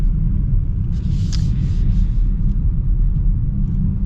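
BMW car with the B58 engine and ZF 8-speed transmission, its powertrain giving a steady, loud low rumble that fills the whole clip, with no talk over it.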